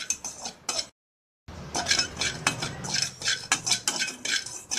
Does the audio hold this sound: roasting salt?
yes